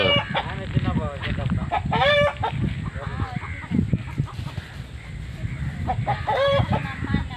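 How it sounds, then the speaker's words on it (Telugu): Free-range country chickens cluck and squawk steadily close by, with a rooster crowing partway through and people talking underneath. "నాటి కోళ్ళు మనకైతే చాలా ఉన్నాయి"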